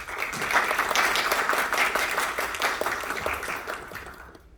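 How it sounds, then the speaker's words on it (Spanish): Audience applause greets a congressman at a panel event, a fairly close, even burst of many hands clapping that holds steady and then fades away at the end. "Un aplauso para él, por favor."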